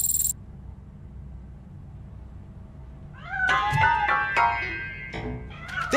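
A cat in the video game RoboCop: Rogue City, hiding inside a piano, lets out several clear meows after a quiet stretch with a low background hum. The meows come in a short, close cluster.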